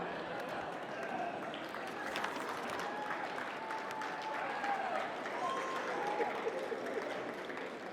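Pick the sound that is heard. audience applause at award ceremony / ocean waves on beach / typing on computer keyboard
audience applause at award ceremony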